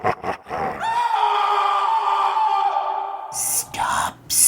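A loud, sustained high-pitched scream holds for a couple of seconds, followed by harsh bursts of noise.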